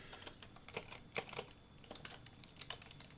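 Quiet keystrokes on a computer keyboard while writing HTML code, a sparse, irregular run of light clicks with a few sharper taps, close and alone without speech.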